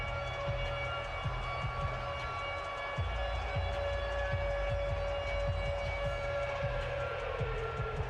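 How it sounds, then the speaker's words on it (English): A siren blares with a steady, sustained wail at a football game. It carries on over a constant roar of crowd or background noise, with no speech. "The sirens are blaring."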